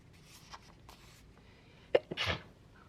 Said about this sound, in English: I have been sneezing a ton the last 2 or 3 days.